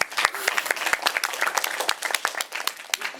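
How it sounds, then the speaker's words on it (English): Audience at a student Toastmasters meeting giving a round of applause, a lively burst of many distinct claps close by, fairly loud and uneven in rhythm. "give him a round of applause."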